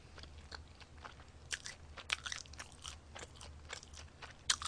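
Someone biting into and chewing a McDonald's 1955 burger, with repeated crunchy bites and soft chewing close to the mic, irregular crisp clicks and mouth noises over a low background hum, no talking.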